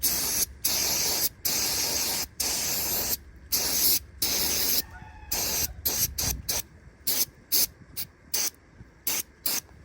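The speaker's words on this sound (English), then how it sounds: "Let me try some brake cleaner." Brake cleaner sprayed onto a Milwaukee M12 impact driver during cleaning, a series of close, loud hissing bursts of varying length that get shorter and quicker toward the end, separated by brief silences.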